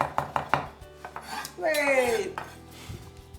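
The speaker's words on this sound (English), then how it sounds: "And a bit more parsley, which I'm finely chopping now." Several sharp knife taps on a cutting board as parsley is finely chopped, followed by clattering and a brief metallic scrape of kitchenware, fairly close.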